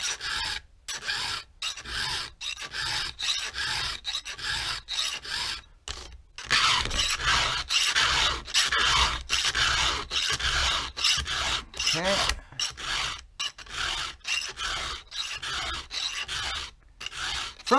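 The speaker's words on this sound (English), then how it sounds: "Thing about freehand filing" A hand file is drawn freehand across saw teeth in steady, rhythmic rasping strokes, loud and close, with brief pauses between strokes and no talking.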